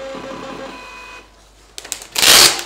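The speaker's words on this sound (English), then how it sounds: "So the printer's really quick." The built-in printer of a MIR Spirolab desktop spirometer prints test results, a brief whirring, ticking feed that rises into a loud, rough burst of printing near the end, with no voices.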